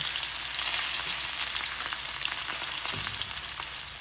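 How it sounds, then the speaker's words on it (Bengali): Eggs fry in hot oil in a pan for a potato and egg curry, a loud, constant sizzle and crackle close up with faint movement, no voices. "এই যে এইভাবে ডিমগুলি আমি একটু ভেজে নেব।"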